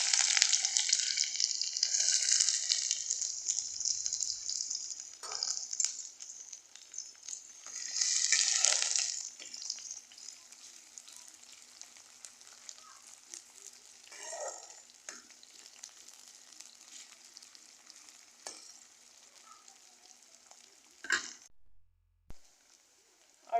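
Onions hit hot oil already holding two bay leaves and chili, giving a bright sizzle that flares loud in bursts and then settles into a quieter steady frying hiss with occasional stirring.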